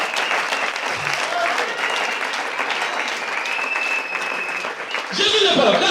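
A church congregation applauds for the Lord Jesus during a French-language sermon. The clapping is loud, steady and sustained from a crowd, with voices mixed in and swelling near the end.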